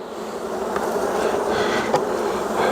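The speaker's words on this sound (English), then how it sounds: "see the bees on the front of the hive" Many honeybees hum at a hive entrance in a close, constant buzz, with an occasional louder individual buzz flitting past.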